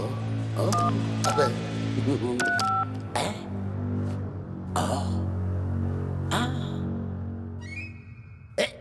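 Telephone keypad dialing tones in an animated cartoon, a series of short beeping tone pairs pressed in quick succession amid an automated phone menu, with clicks and characters speaking over a steady background hum.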